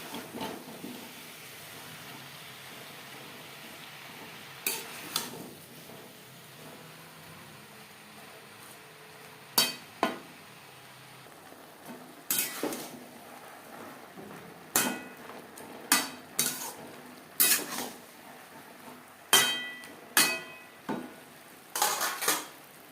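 A utensil stirs spinach and mixed vegetables in a pan on a gas stove for a vegetarian spinach dish, giving scattered clinks and scrapes that grow more frequent, over a low sizzling hiss.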